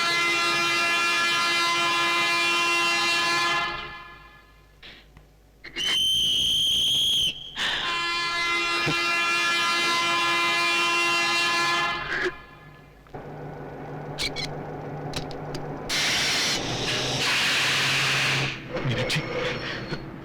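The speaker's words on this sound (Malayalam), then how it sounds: "ട്രെയിൻ പോവാ" A passenger train pulls out of a station, its loud horn sounding in long sustained blasts with a short shrill whistle between them, then rumbling wagon noise and hissing as it moves off, with people talking over it.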